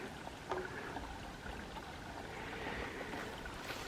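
A mountain creek in Shenandoah National Park, its water flowing as a faint, steady trickling hiss under outdoor ambience, with no voices.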